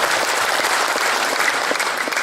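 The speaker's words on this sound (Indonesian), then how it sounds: "Tepuk tangan untuk Forum BUMN Peduli Bandung." A crowd at a Bandung civic appreciation event for the Sejuta Biopori movement breaks into loud, continuous applause, a thick wash of many hands clapping at once that stays strong throughout.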